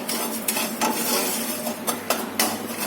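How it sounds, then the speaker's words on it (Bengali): Sugar is stirred continuously in a dry pan or wok over medium heat, giving close scraping strokes with a faint sizzle and occasional utensil taps. "শুকনো তাওয়া বা কড়াতে এই চিনিটা নিয়ে কন্টিনিউ নাড়তে থাকতে হবে"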